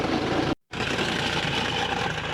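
A faulty truck engine idles steadily and loudly at close range, broken by a brief total dropout, with a rough, continuous broadband rumble and no talking.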